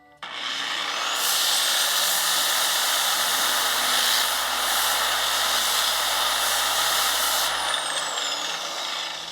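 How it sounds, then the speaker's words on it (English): Compressed air blasts steadily through a car polishing pad, making a loud continuous hissing roar that starts abruptly and holds for several seconds with no talking. "you can blow it out if you have compressed air"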